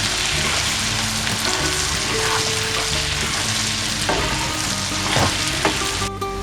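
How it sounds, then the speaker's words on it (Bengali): Jackfruit seeds fry in mustard oil left over from frying fish, giving a loud, continuous close sizzle with a few light clinks and stirring knocks from a utensil. "সেই তেলেই আবার কাঁঠালের বিচি ভেজে নেব"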